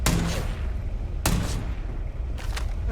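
Loud gunfire in the Starfield video game, with three sharp broadband blasts at roughly even intervals, each trailing into a short echoing decay over constant low rumble.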